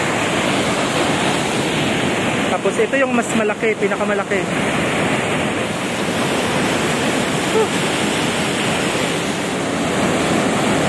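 Aliwagwag Falls gushing and roaring, a loud continuous rush of falling water close by, with a person talking briefly over it.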